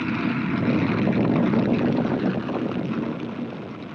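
A Rocketdyne F-1 rocket engine roars through a full-duration test firing on a test stand at Edwards, a loud, steady broadband rumble that holds constant and then gradually fades slightly.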